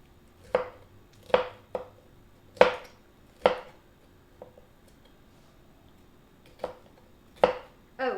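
A knife chops a bell pepper on a cutting board in about nine sharp, close thuds at an uneven, unhurried pace with quiet pauses between, no talking.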